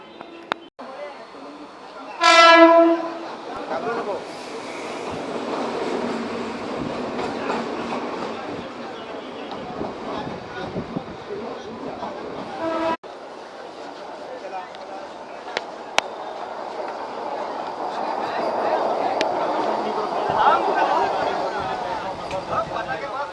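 A decorated passenger train rumbles along with a loud, brief horn blast early on, then steady rolling and rattling as people talk nearby.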